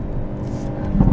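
2022 Hyundai Elantra N engine revving in second gear on a winding mountain road, a brief loud rising engine drone close to the microphone with no speech.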